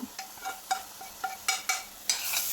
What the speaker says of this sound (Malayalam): ചെമ്മീനിട്ട് കൊടുത്ത് ഇളക്കി കൊടുക്കാം